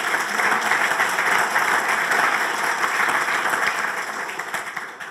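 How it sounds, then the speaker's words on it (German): A large audience claps at a German award ceremony for the Werner-Bonhoff-Preis, sustained, even applause filling the room and tapering slightly toward the end. "Insofern einen herzlichen Dank und auch bitte einen großen Applaus."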